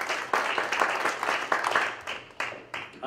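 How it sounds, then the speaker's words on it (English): A church congregation claps together at a Sunday service, a dense, steady patter of many hands with louder swells, and a voice faintly audible beneath. "give God a good hand clap this morning"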